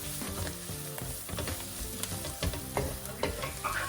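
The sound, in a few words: Belgian mussels cooking with celery in a pan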